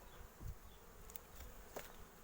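Honeybees buzzing around an opened hive during a spring inspection of merged colonies, a faint steady hum with a few individual bees passing close by.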